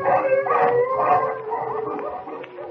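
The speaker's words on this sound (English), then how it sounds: "The wolves. They're coming closer." Wolves howling as a 1941 radio drama sound effect, several overlapping rising and falling howls close and loud throughout, with no talking.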